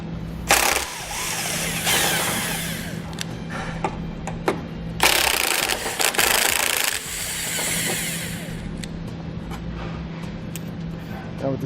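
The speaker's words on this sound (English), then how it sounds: "I'm going to be using a 15mm socket to remove these two bolts." A 15mm socket on a ratchet removing the factory tow hook bolts from a 2004 Chevrolet Blazer, with bursts of close ratcheting clicks separated by quieter mechanical handling and faint background hum.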